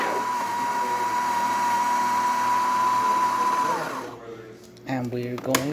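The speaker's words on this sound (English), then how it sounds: "now we are grinding on the 10 setting of the grinder." A burr coffee grinder on a fine setting grinds beans for a Breville espresso machine, a loud steady whir lasting about four seconds before cutting off, followed by brief clattering handling sounds.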